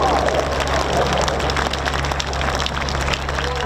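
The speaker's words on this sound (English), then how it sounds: "give the Synchro pair a round of applause for a beautiful heart" A crowd at the RAF Cosford Air Show applauds the Red Arrows Synchro pair, steady outdoor clapping with a low engine drone beneath, continuous and moderately loud.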